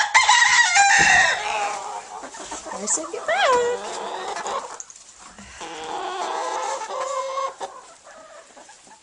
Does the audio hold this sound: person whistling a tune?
no